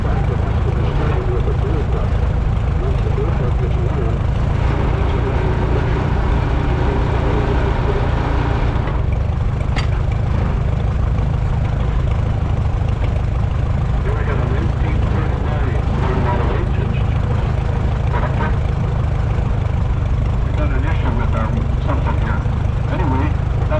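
A 1939 Fireball H tractor on half steel wheels runs during a ride at a vintage machinery parade, its engine a constant low, heavy rumble beneath nearby voices.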